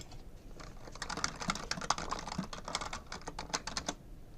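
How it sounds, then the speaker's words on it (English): Keys clatter rapidly and steadily on a computer keyboard as notes are typed, a close, continuous run of crisp clicks with no voices. "I can type my notes, say save"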